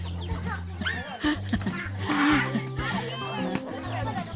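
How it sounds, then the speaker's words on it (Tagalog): Chickens cluck repeatedly around a rural farmyard in the Philippine countryside, near and fairly loud, mixed with people talking over them throughout. "Daghan sila og manok."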